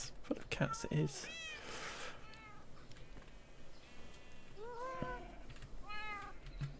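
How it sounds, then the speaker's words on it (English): Cats in a small Minecraft house give several high, clear meows, scattered in pairs and singles across the stretch, fairly quiet, with a voice briefly talking near the start. "Full of cats it is."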